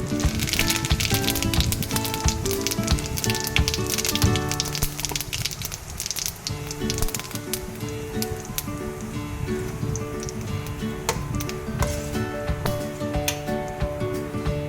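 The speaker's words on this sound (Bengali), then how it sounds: "এবার আর একটু তেল দিয়ে দিলাম, দিয়ে ফোড়নে দিচ্ছি তেজপাতা আর গোটা জিরে" Bay leaves and whole cumin seeds sizzle in hot oil for a fish ball curry, a dense, continuous crackle and spatter heard up close, with no one talking.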